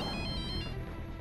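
A telephone rings at home, a steady electronic ringtone lasting throughout at moderate loudness with no voices.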